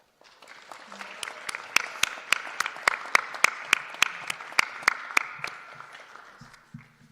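An awards night audience claps after placings are announced, a brief burst of applause with sharp individual claps that swells, peaks and then fades out, fairly close and with no talking over it.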